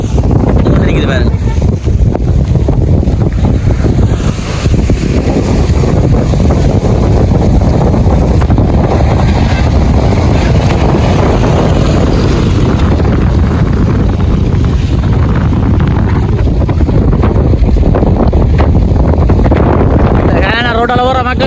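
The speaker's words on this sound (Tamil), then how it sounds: "காற்று ஆட்டிக்கொண்டு இருக்கு பாருங்க." Strong wind during flooding in Jaffna, a loud constant roar buffeting the microphone throughout, with someone speaking over it.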